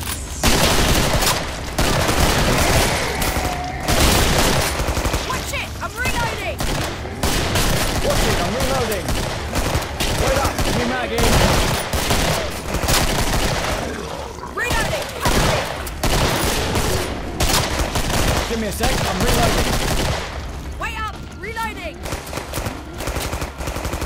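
Rapid bursts of Tommy gun fire in the co-op video game Killing Floor rattle almost continuously, loud and close, with other gunfire and game noise mixed in and a player's voice talking at times.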